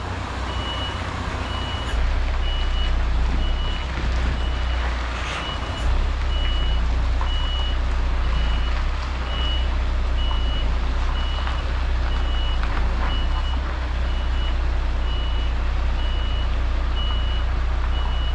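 A truck reverses in tight quarters, its backup alarm beeping in a steady, regular rhythm over a loud, constant diesel engine rumble, with no talking.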